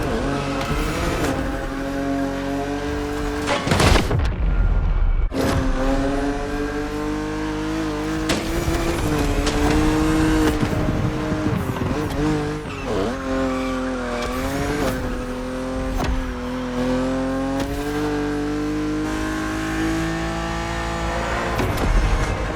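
A BMW in the racing game The Crew Motorfest cruising on an open road, its engine droning steadily with rising and falling revs through gear changes and a brief tire squeal, close and loud with no talking.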